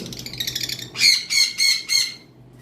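Green-wing opaline lovebirds give a soft run of chirps, then three loud, harsh squawks in quick succession, close by with no talking.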